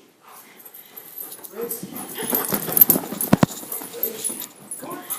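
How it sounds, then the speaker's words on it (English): An agitated dog whimpers and yelps while fixated on a cat, giving excited bursts that grow louder midway as a person talks over it. "My dog's spazzing out like usual."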